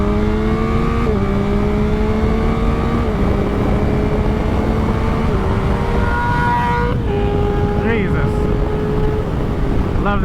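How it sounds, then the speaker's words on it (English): A 2022 Yamaha MT-09 motorcycle engine revs loudly and steadily, its pitch stepping up and down through repeated throttle changes, with a voice faintly under the engine. "Love the sound of that bike."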